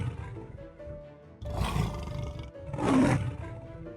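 Cartoon dinosaur roaring in a fairy-tale setting, two loud, long, breathy roars in a row, close and prominent with no talk over them.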